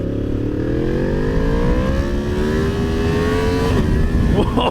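A Yamaha MT-10 motorcycle fitted with an SC Project exhaust accelerates hard, its loud engine note climbing steadily in pitch through the rev range before a brief shift near the end.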